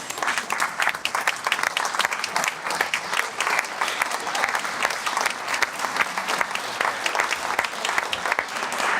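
A singing competition audience gives the college-division judges a sustained, dense round of applause that holds steady for several seconds, with crowd noise mixed in.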